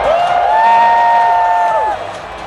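A crowd at a Worlds semifinal gaming event cheers and whoops loudly in one sustained roar, with high voices standing out above the mass before the noise drops away near the end.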